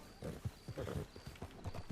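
Horse hooves clip-clopping in the RedM (Red Dead Redemption) roleplay game, rapid close hoofbeats with a neigh mixed in, steady and moderately loud.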